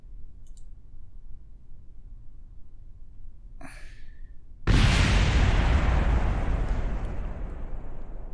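A decoupler fires a siege projectile in Kerbal Space Program: a quiet stretch, a brief sighing sound, then a sudden loud burst that holds as a roaring noise and slowly fades.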